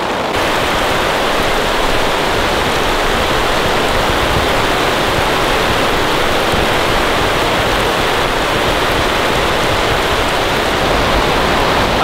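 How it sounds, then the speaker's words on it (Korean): Heavy rain pours steadily at a campsite in a downpour, a dense, loud and unbroken hiss from start to finish, with no wind and no voices. "아니 비가 와서 좋긴 한데"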